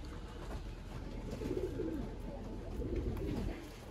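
Racing pigeons coo steadily at a training loft on a windy day, a soft continuous throaty murmur close by with wind noise underneath.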